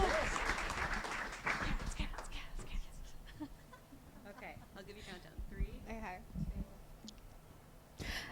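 An audience at an Ignite Talks event at MSU claps for a speaker in a short, fairly loud burst that dies away within a couple of seconds, followed by quieter rustling and a voice beginning to speak.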